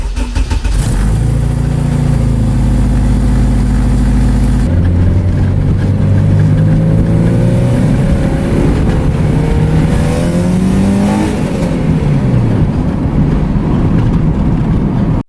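Car engine idling then revved repeatedly, loud and close, with pitch rising and falling through several throttle blips as the tachometer is checked.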